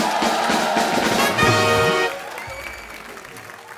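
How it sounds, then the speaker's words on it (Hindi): Audience applause for Karan Johar on The Kapil Sharma Show studio set, a loud, steady clapping mixed with tonal music that swells mid-way, then drops to a quieter patter toward the end. "चलो एक बार करण सर के लिए जोरदार तालियां"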